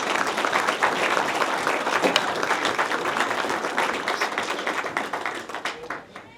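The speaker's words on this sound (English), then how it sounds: "Please give them a big round of applause." A crowd applauds at an outdoor Liberty State Park gathering, loud, dense clapping close by that thins out into scattered claps near the end.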